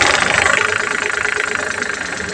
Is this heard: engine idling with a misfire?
yes